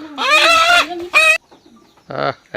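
A 1.5 kg hill rooster gives a few loud, close, strained clucking calls separated by short pauses.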